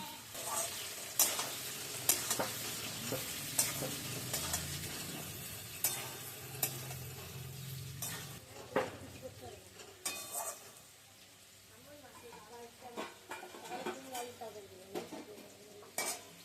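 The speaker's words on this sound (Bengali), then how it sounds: "এবার একটু নাড়াচাড়া করবো, একটু লালচে লালচে হবে" A spoon stirs and scrapes taro frying in a pan over a soft, steady sizzle, with irregular clinks of metal against the pan.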